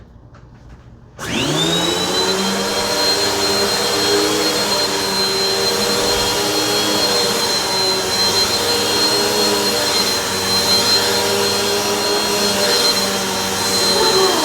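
A Bissell vacuum cleaner switches on after a second of quiet, whining up quickly to a loud, steady high-pitched roar that holds without a break to the end.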